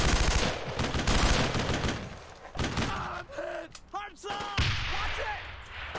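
Enemy gunfire in a World War II shooter set around Vierville, with loud, dense bursts of machine-gun and rifle fire filling the first seconds, then scattered shots and tonal game effects, under a faint voice.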